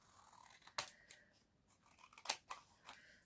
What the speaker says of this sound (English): let's cut that bit off and put that bit there